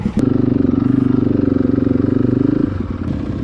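A motorcycle engine on a race track at Mirecourt idling with a rapid, steady throbbing pulse, close and loud, easing slightly near the end.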